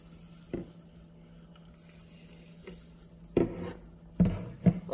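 Water is poured into a container for a sparkling water pH and TDS test in a few short splashing bursts, with a faint hum in the background and quiet gaps between the pours.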